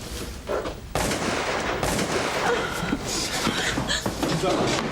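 Gunshots crack through a noisy, chaotic scene in a TV police drama, with voices shouting in the mix.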